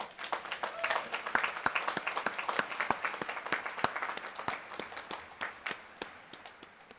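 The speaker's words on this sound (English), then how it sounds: "give themselves a round of applause" Commencement audience of family, friends and supporters applauding, a dense wash of many hands clapping with sharp individual claps standing out, steady at first and gradually thinning toward the end.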